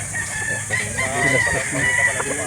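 A rooster crows at a chicken sale in Calauan, Laguna, a drawn-out, harmonic call standing out over a busy background of murmuring and other fowl.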